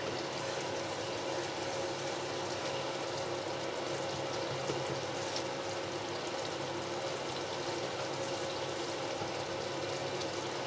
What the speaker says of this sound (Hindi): अब इसमें हम घी डालेंगे।